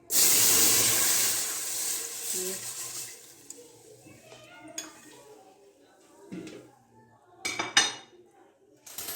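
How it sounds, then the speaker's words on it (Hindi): A loud burst of hissing and bubbling as milk hits a hot pan, fading into quieter simmering with occasional clinks of utensils. "अब इसमें दूध डालूंगी। जैसे तड़का लगाते हैं वैसे।"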